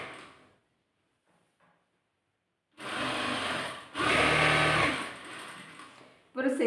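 A sewing machine runs in two bursts while stitching the slit of a churidar, a steady mechanical whir that rises after a quiet gap, with a brief pause between runs.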